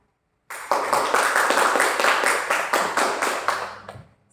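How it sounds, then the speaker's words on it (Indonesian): An audience at a PPPK orientation seminar in Surakarta claps in an even, rhythmic unison after a brief silence, the clapping loud and close before fading out near the end. "mari kita berikan tepuk tangan yang meriah"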